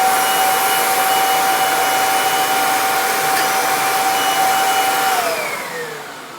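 A vacuum cleaner runs loud and close with air flowing through it while picking up tape, giving a steady roaring whoosh and a high whine that drops in pitch near the end as it winds down.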